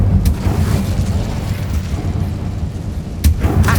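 Incendio fire spell blast in a Harry Potter video game, a loud sustained booming rumble of fiery bursts with a couple of sharp cracks, dense low-end throughout.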